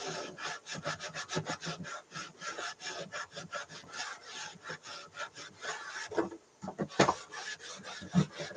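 An old Bohemian cello being rubbed clean of dirt, a fast run of dry, scratchy back-and-forth strokes close up, pausing briefly before a few heavier scrapes and knocks.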